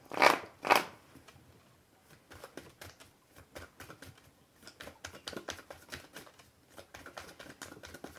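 Tarot cards are shuffled for a card reading, with two loud riffling bursts near the start followed by a run of soft, close card taps and slides.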